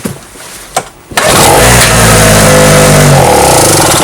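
A two-stroke petrol generator with a leaking carburettor is pulled into life, a brief cranking burst giving way to a loud, steady, close engine drone that runs continuously with no talk over it.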